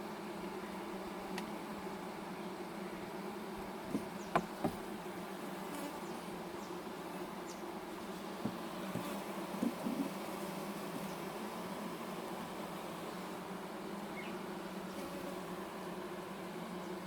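A soft, continuous hum of many honey bees buzzing around a hive drones throughout, with a few faint taps and knocks.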